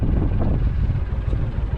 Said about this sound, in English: And I apologize for the wind. It's pretty windy